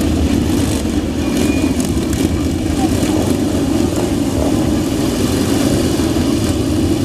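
Display team motorcycles from the Royal Signals White Helmets circle an arena at a steam fair, a continuous blended engine drone of several bikes at moderate distance, fairly even throughout.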